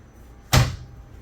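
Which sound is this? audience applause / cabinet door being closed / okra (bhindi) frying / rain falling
cabinet door being closed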